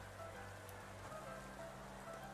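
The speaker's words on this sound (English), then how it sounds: "So we'll begin to see that rain pour onto the field." Rain from the Rain Dance move in a Pokémon video game, a steady, soft patter of raindrops that stays even throughout and is heard alone.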